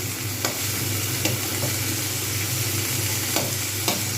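Winter vegetables including cauliflower, green peas and beans fry steadily in a wok while a metal spatula breaks them into smaller pieces, giving a constant close sizzle with a few sharp scraping taps. No one talks.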